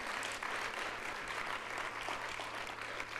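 A conference audience at a closing session gives a round of applause, steady dense clapping heard at a moderate distance, continuing evenly for a few seconds without talk.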